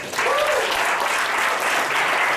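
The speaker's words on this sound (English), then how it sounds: "Can we give World Ventures a round of applause?" A brief, full round of applause rises from an audience at a business presentation, starting abruptly and holding steady and loud.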